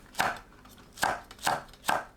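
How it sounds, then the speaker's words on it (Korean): Close, crisp knife cuts through Cheongyang chili peppers on a board, slicing diagonally: four evenly spaced chops with a short sliding rasp, alone and clear. "청양고추를 어슷 썰어줍니다."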